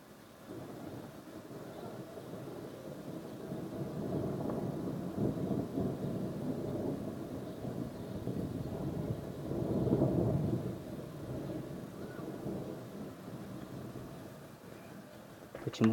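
Long, low rolling thunder from a convective thunderstorm swells and fades over several seconds, a deep distant rumble peaking midway, with faint rain and wind beneath.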